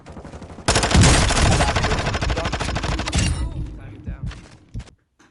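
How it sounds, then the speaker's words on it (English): Warzone 2 gunfight with a sudden burst of rapid automatic fire, loud and close, rattling for a couple of seconds before it trails off into scattered thuds and a final faint shot. "So let's get into the first gunfight."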